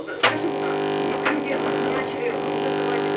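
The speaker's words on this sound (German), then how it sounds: "Im Fernseher ist eine Ablenkspule, die eine Strahlung von 50 Hertz aussendet. Das ist, was wir hören." A steady electromagnetic hum from an ordinary television's deflection coil, picked up as a constant buzzing drone with faint crackles and brief static bursts over it.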